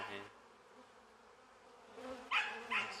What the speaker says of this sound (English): Oh, that's a hornet.